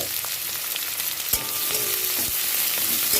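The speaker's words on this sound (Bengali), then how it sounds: "এবার আমি একটু নেড়ে চেড়ে এগুলো ভেজে নেব।" Chopped onions and green chili frying in oil and being stirred: a continuous close sizzle with occasional spatula scrapes and taps against the pan.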